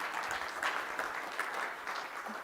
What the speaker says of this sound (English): Yeah, let's give Justin a round of applause.